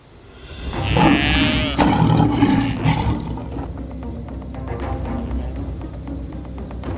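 A deep, rumbling big-cat roar swells up loudly near the start and rolls on for a few seconds, then fades into lower growling and ambient rumble.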